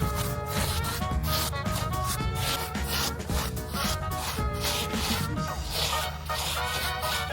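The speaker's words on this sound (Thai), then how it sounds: "เอาสีนะครับทาไปแบบเปียกๆเลยนะครับ" A brush spreads diluted, watery paint across a stone-textured surface in a Japanese-style garden pond build, giving a continuous scratchy rubbing with quick repeated strokes, close and steady, with no talking.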